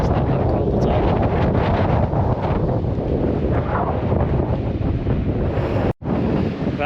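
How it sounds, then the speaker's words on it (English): Strong, steady wind buffets the microphone without pause on the Scottish Highlands coast, a loud broadband roar with a brief dropout near the end. "It's a little bit windy"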